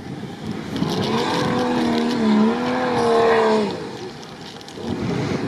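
Two Suzuki Samurai off-road cars accelerate hard at an off-road rally in Lithuania, a rising engine whine climbing and sweeping in pitch, loud and steady over crowd-filled outdoor background noise, then fading away near the end.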